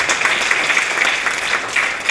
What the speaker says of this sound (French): Des applaudissements pour tous ces professeurs qui sont là.